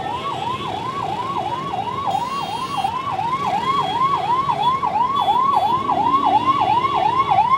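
An ambulance stuck in heavy city traffic in Ludhiana sounds its siren in a fast, repeating wail, loud and close throughout, over a bed of traffic noise and rumbling engines.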